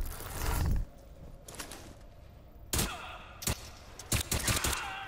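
Gunfire in the video game Crysis 3, with a loud burst at the start followed by scattered sharp shots and mechanical clanks, some in quick clusters, without talk.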